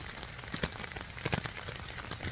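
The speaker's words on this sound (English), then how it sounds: "it's raining pretty good" Steady rain pattering on a surface nearby at a campground in Tomlinson Run State Park, West Virginia, with scattered louder drops tapping through the continuous wash.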